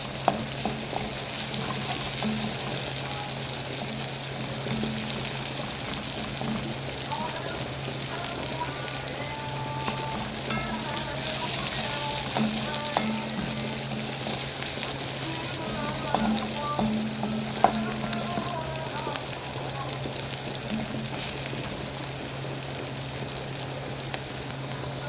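Sliced onion and pepper sizzle in a hot frying pan, a constant crackling fry with occasional stirring scrapes and clinks, close and fairly loud.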